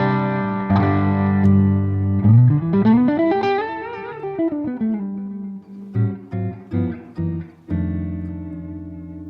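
Electric guitar with a mostly clean, slightly driven tone: sustained notes with a rising and falling bend, then a run of short, choppy plucked notes.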